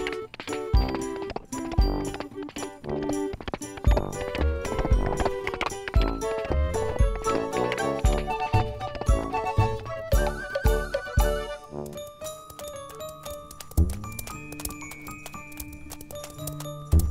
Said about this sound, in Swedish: Hästarna springer runt.